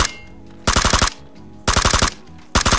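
Rapid automatic gunfire from a fully kitted gun in the video game PUBG: three loud, close bursts of quick shots separated by short pauses.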